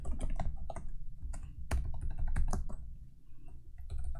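Rapid, steady clatter of keys as Python code is typed on a computer keyboard, with close, crisp clicks and brief pauses between bursts, no voices.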